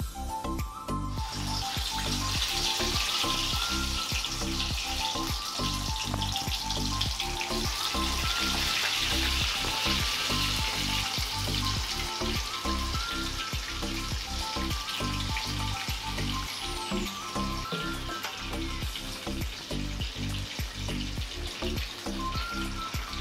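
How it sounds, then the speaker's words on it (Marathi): Chicken lollipops frying in hot oil in a kadhai over a medium-to-high flame give a loud, dense, continuous sizzle and crackle that holds steady throughout, close up, with no talking. "चला आपण आता लॉलीपॉप तळायला घेऊया"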